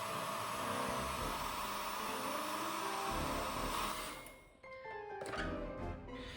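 Hair dryer drying a watercolour painting of a rose on paper, a steady loud broadband blowing roar for about four seconds that then cuts off, leaving quieter room tones and faint clinks.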